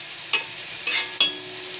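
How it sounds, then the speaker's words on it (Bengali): Fried spice paste for a chela fish curry crackles steadily as water is added, with three short bright hissing bursts of sizzle over a low continuous frying bed. "এরপরে আমি জল দিয়ে দেবো এটার মধ্যে"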